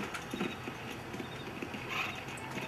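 Horse hooves clip-clopping in Red Dead Redemption, a steady run of soft, fairly faint hoof beats on the ground, heard without talk.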